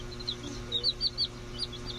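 Baby chicks being raised at home peep in a quick run of high, thin chirps, several overlapping calls close by over a low steady hum.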